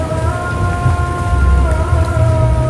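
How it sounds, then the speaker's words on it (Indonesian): Steady rain falls outdoors as a constant dense hiss with a low rumbling undertone, without a break and with no voices. "Ini udah hujan-hujan juga lagi."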